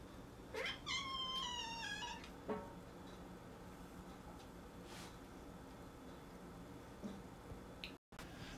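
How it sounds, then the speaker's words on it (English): A cat meows close by in a drawn-out, wavering call lasting about a second and a half, followed by a shorter chirp, then quiet room noise with faint ticks and taps. "Cat."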